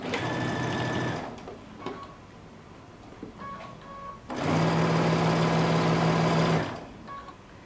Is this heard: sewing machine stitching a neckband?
yes